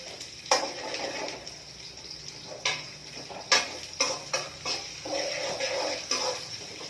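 Cashews with cinnamon, cloves and star flower spice frying in a pan for paneer butter masala: a steady close sizzle broken by several sharp scraping and clacking stirs of a spoon.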